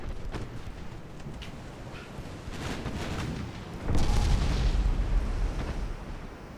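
Secondary-battery guns fire in a UAD naval battle game set in the 1920s, with dull booms and rumbling blasts over a constant noisy wash and a heavier burst partway through.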